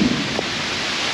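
Heavy rain pours in a thick, steady roar with a low stormy rumble underneath during a thunderstorm on Mt. Tabor, Vermont, brief and unbroken.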